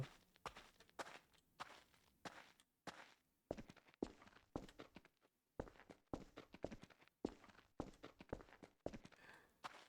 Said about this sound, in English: The same generic source footstep sounds also.